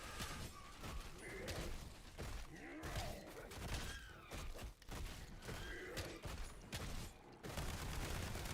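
Mortar rounds and explosions go off in a Black Ops zombies game, a dense, continuous barrage of loud booms and crackling blasts with heavy gunfire mixed in and no pause between impacts.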